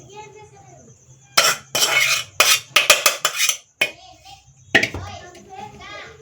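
A spoon mixes cooked white rice with tomato masala in a metal pot, giving bursts of scraping and clinking strokes close up, separated by quiet gaps and with soft background voices.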